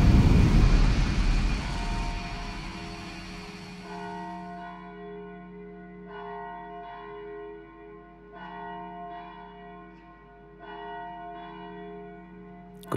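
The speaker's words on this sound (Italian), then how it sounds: "Questa è la campana di Longarone, la campana che suona ogni anno alle ore 22:39" The large church bell of Longarone, Italy, tolls slowly in memory of the Vajont dam disaster, each deep strike leaving a long humming ring that fades before the next, heard alone.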